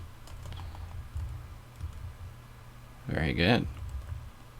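Computer keyboard typing while switching from the bash shell to the fish shell: soft, quick clicking keystrokes in short bursts, fairly quiet and close, with a person speaking briefly over them.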